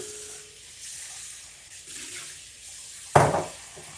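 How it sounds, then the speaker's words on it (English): Water is poured from a measuring cup into an Instant Pot in a kitchen, quiet trickling and splashing that ends in a short, louder gush, heard close with no talk. "So now let's put water in here. And I'm going to pour it with my measuring cup"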